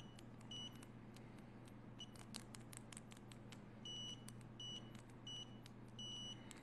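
A KING'SDUN KS-830L multimeter's continuity beeper sounds in a few short, loud, high tones, some held a little longer, spaced apart over a steady low background hum.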